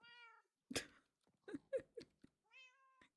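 Cat meows from the Minecraft video game, two clear harmonic mewing calls at the start and end with other short in-game sounds between them, fairly close and alone without talk.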